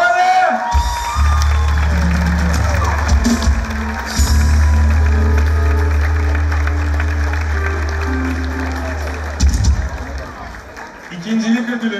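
Audience applause with some cheering at a teachers' singing contest final in Van, greeting the second-place contestant; loud, sustained clapping under a steady low hum and music bed, fading out near the end.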